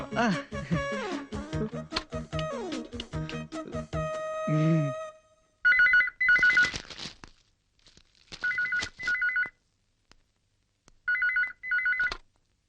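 A telephone rings in a Malayalam comedy scene, sounding in four separate bursts of a repeating electronic trill with short silences between them. Music and other sounds come before the ringing starts.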